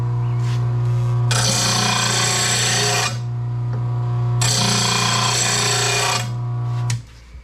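A bench grinder sharpens a mower blade with a loud, abrasive grinding hiss in two long passes over a steady motor hum, each lasting a couple of seconds, with a quieter gap between them as the blade is lifted away.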